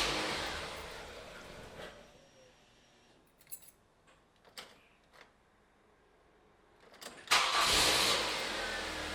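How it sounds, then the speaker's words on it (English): A Ford Mondeo Mk3 petrol engine starts after a fuel filter replacement: an initial churn fades, a few brief clicks and cranking bursts follow, then the engine catches with a loud, close roar near the end. "then you can try starting the engine"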